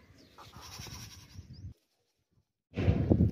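A two-toothed sacrificial goat at a livestock market bleats loudly and close, a wavering cry, followed by a brief silence and then a second harsh bleat.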